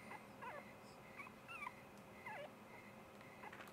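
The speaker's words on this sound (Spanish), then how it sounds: "Mientras la chica se acercaba a la señal, oyó un ladrido." A dog in the horror game Rule of Rose gives soft whimpering yips, several faint rising and falling whines spaced through a quiet background, with no voices.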